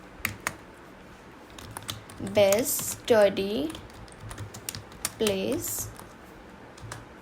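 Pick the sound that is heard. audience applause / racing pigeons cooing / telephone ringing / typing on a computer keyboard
typing on a computer keyboard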